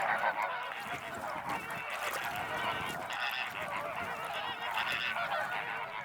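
A large colony of greater flamingos calls in the Po Delta lagoons at Comacchio, a dense, continuous chorus of goose-like honking from many birds at once, steady and fairly close throughout.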